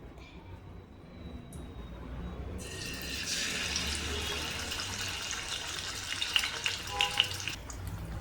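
Murrel fish frying in a pan, a steady bright sizzle that rises after a quieter start and holds loud and close, with a few sharp crackles and pops near the end.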